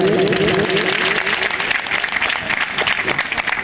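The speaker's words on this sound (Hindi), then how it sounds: "स्वागत की कड़ी में ताली होनी चाहिए।" An audience at a village Ramayan festival claps in welcome, dense steady applause throughout with a faint voice and background noise beneath it.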